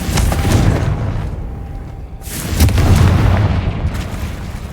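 A Confringo fire spell in Hogwarts Legacy lets off two loud, close booming blasts, each swelling into a rumbling roar that trails off, with no talking over them.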